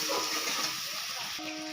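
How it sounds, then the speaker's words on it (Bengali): Water is poured into a pan of sizzling mustard-poppy spice paste with salt, turmeric and chili powder for a hilsa fish curry. It makes a steady, fairly quiet hiss, and a voice is faintly present underneath. "দিয়ে দিলাম জল।"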